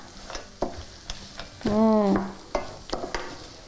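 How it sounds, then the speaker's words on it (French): Stirring a bastilla chicken filling with honey and a thin drizzle of oil in a pan: rhythmic scraping strokes over a low sizzle, close by, with a brief tonal sound partway through. "on mélange tout ça"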